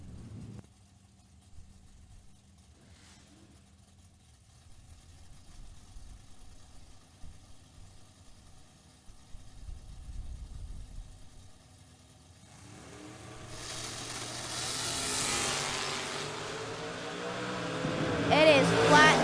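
Two drag cars, a Plymouth Duster and a 1978 Chevy, idle and stage, then launch down the strip with a loud, rising engine roar that builds over the final seconds; an announcer talks over the quieter idle early on.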